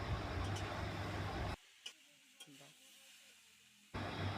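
Giant taro (maan kochu) with turmeric and chilli powder is stir-fried in a pan, a loud, dense sizzle that cuts out abruptly for a couple of seconds with a few faint knocks before resuming.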